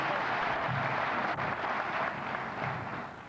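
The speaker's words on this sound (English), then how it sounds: "Yes, let's give them a nice round of applause." Audience applause at the Miss Ghana 1996 beauty pageant: steady, dense clapping from a large crowd that fills the whole moment and tapers slightly at the end.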